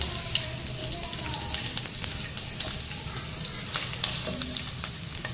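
Chopped garlic and ginger sizzle in about two spoons of hot oil, a dense, steady frying hiss up close with light stirring clicks scattered through it.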